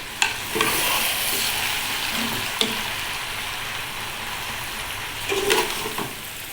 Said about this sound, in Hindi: इसके अंदर मैं भिंडी डाल चुकी हूँ और हम इसको मिक्स करके हल्की स्टीम में इसको दम लगा देंगे